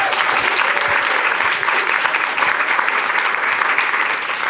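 An audience at a panel discussion on Australian politics claps for a panelist, a dense, loud and steady wave of applause that lasts throughout.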